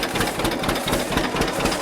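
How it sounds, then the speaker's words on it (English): An original John Deere 50 tractor pulling two-row cultivators runs close by, its engine giving a loud, steady, rhythmic chugging throughout. "Neat old tractor."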